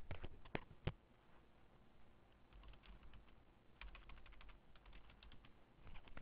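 Fast typing on a computer keyboard while entering account items in Korean accounting software, with bursts of crisp, close key clicks and a few louder taps, heard alone with no talking.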